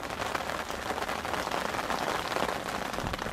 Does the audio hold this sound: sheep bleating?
no